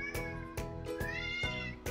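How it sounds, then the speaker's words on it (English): A house cat meows repeatedly in the background, about four drawn-out, tonal cries in steady succession, moderately loud and with no talking over them. "That's my cat in the background."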